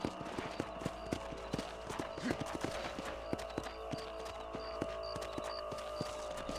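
Horse hooves clip-clopping at a steady quick gait in the Western video game Red Dead Redemption, a regular rhythmic beat of hoof strikes over a constant outdoor ambience, moderately loud throughout.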